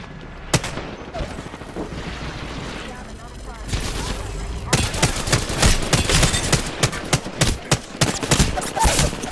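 Gunfire in the video game Apex Legends: a sharp opening shot, a lull, then rapid bursts of automatic fire and booming impacts, loud and dense through the second half.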